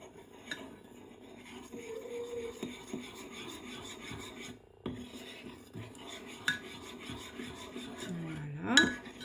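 Two tablespoons of baking soda mixed by hand with a spoon in a bowl for a homemade solid deodorant: a steady, fairly faint gritty scraping and rubbing with occasional light clinks of utensil on the container.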